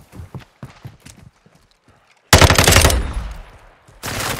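Gunfire in a shooter game breaks out loud and close, a dense rapid burst after a few quieter shots, then a second burst at the end.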